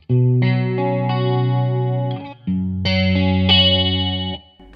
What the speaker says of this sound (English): Here's a chorus sound.